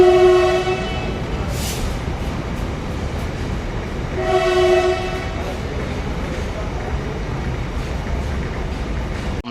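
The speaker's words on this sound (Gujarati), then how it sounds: "ટ્રેન ઉપડી ગઈ છે" The horn of Bhavnagar–Surendranagar passenger train 59228 sounds loudly twice at departure, over a steady rumble of the moving train with clattering wheels and faint background voices.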